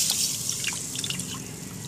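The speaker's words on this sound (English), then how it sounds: "Wash it 3 times thoroughly." Mung beans being washed by hand in a bowl of water, giving soft dripping and splashing sounds that run steadily and close throughout.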